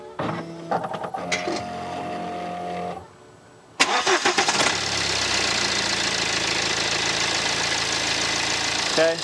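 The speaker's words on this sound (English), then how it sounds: "Right, let's get it fired up." An old BMW car engine cranks and catches after some workshop clatter, then settles into a steady, close idle that runs on alone.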